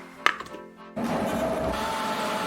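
A blender grinds kimchi seasoning made with fish sauce and water, starting after a few knocks and clicks and then holding a loud, steady whirring roar.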